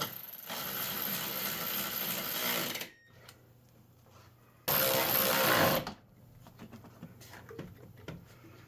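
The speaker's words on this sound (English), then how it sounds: "So now we're going to throw in our mounting bolts." A power driver tightens the mounting bolts on a Lexus LS400 air intake box: a loud, close whirring burst of about two and a half seconds, a pause, then a shorter one-second burst, with faint handling clatter between.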